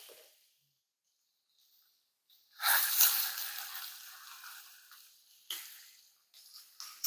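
Chicken pieces laid skin side down in a hot pan burst into a loud sizzle that slowly fades to a steady fry, with a few sharp crackles and spits near the end.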